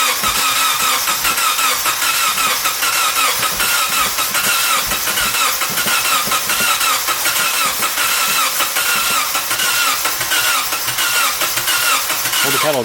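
A Honda K24-swapped car engine cranking and trying to catch after its injectors sat unused a long time, a loud, continuous churning rumble of turning over that stays close and steady throughout.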